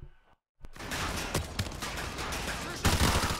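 Gunfire in a Call of Duty Modern Warfare 2 campaign battle, a sharp shot after a moment of silence, then a dense, continuous rattle of automatic fire at moderate loudness.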